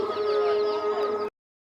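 A native rooster clucks and crows nearby at a village poultry market, with other poultry sounds layered beneath, continuous for over a second before stopping abruptly.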